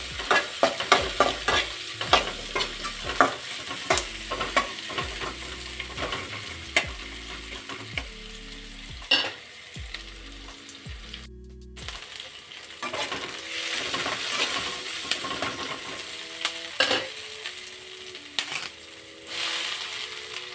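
Onions frying in a pan for chicken masala fry, a continuous close sizzle under repeated scraping and clinking stirs of a spatula, with a brief dropout midway and no one speaking.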